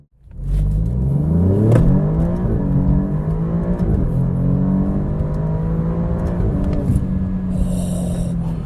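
A 2017 Alfa Romeo Giulia Quadrifoglio with an 8-speed automatic accelerates hard, its engine note climbing and dropping sharply through a rapid series of paddle-shifted gear changes, loud and steady with no talking.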